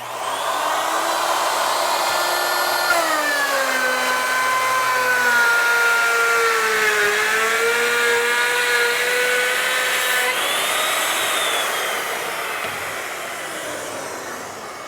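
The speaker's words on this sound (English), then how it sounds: "I'm going to plunge the router up above the work, go all the way through" Router in a Safety Speed SR5 saw/router combo cutting a through dado, a loud high-pitched whine that shifts in pitch as the carriage moves through the work and back, winding down at the end, with no talking.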